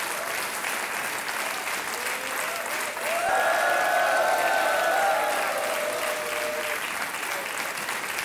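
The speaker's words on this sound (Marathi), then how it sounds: "टाळ्या वाजत राहिल्या पाहिजेत मी चेक लिहीपर्यंत" An audience applauds on the KBC Marathi quiz show, a steady wash of clapping that lasts the whole time, swells in the middle and carries a faint tone underneath, with no clear talk.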